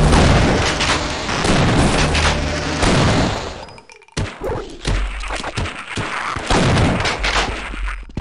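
Loud, dense bursts of gunfire from the 1998 PC shooter Half-Life, booming and thudding repeatedly through most of the stretch, with a short silent gap midway before more shots resume.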